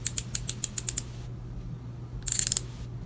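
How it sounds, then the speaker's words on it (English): Twist mechanism of a Julep cushion complexion concealer being cranked: a rapid run of about seven crisp clicks, then a pause and a short burst of denser clicking, close and quiet with no talking. "I'm going to kind of see how many cranks or turns I would need to kind of get the product out."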